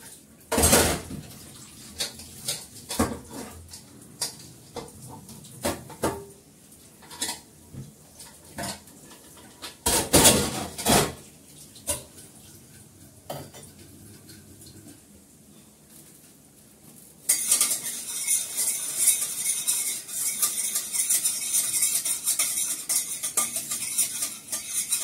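A metal spatula being washed in a home kitchen, with sharp clinks and clatters of utensils and pots scattered over the first part, then a steady rush of running water taking over near the end.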